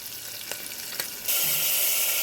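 Chopped onions hit hot oil in a pan while cooking chicken, a soft quiet hiss that jumps into a loud, steady sizzle partway through, with a couple of light clicks of utensils before it.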